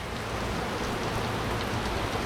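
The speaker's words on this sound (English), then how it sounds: "we are getting a good solid soaking rain" Heavy, steady afternoon downpour in Florida, a dense broadband hiss of rain falling on surfaces that stays loud and unbroken throughout.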